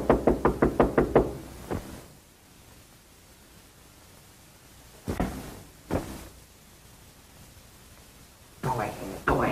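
A rapid burst of about six sharp knocks on a door, close and loud, then a pause and a few more single thumps, set in an old 1933 film scene with people talking.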